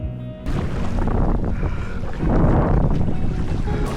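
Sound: strong wind on open water

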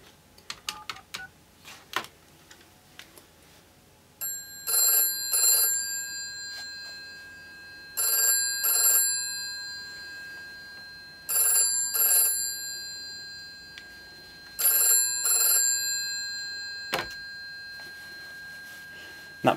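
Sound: GPO 746 telephone bells ringing via Grandstream VoIP

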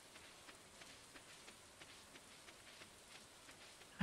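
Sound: rain falling in the video game Stardew Valley

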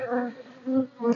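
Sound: honeybee swarm buzzing

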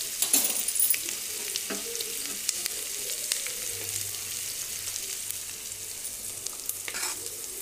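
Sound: onions frying in oil in a pan

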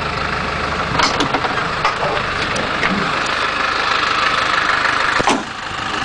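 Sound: 1985 Land Rover engine idling

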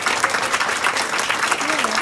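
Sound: audience applause for veterans

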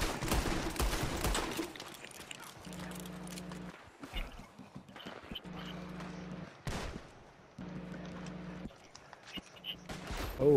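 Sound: gunfire in the video game Red Dead Online

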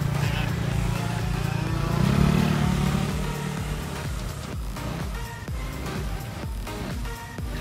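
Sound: motorcycle riding a gymkhana course

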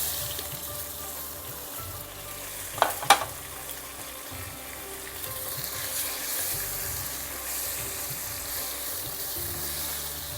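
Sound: thinly sliced onion added to hot oil with asafoetida, frying

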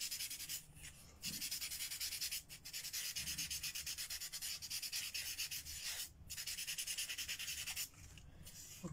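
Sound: sanding a plastic ball to remove impurities

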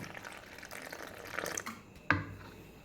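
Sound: pouring water into batter mix

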